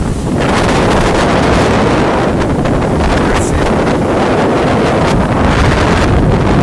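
Rough sea whipped by strong wind, a constant loud roar of gusts buffeting the microphone over crashing surf, with a voice briefly heard.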